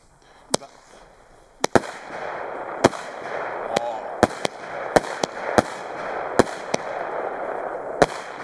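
Poison fireworks fired over the middle of a lake give a run of sharp bangs and crackles, about a dozen reports spaced irregularly. Each one echoes over a steady rushing background, heard from a moderate distance.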